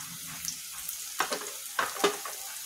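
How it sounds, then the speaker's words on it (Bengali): Onion and green chili fry in hot oil with a steady soft sizzle, broken by a few sharp clattering stirs, just before river fish is added. "পেঁয়াজ কাঁচামরিচগুলো আমার ভাজা হয়ে গেছে প্রায়। আমি এখন মাছটা ছেড়ে দেব।"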